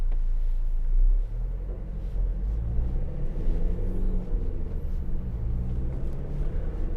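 Interior of a 2018 Ford Transit Custom 2.0 TDCi 290 L1H1 van on the move, a steady low diesel drone and road rumble heard from inside the cab, continuous and moderately loud.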